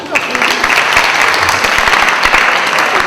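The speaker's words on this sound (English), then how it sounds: "Give him a big round of applause." A crowd of students and staff at a school event claps loudly and continuously, a dense, close patter of many hands with a few sharper individual claps standing out.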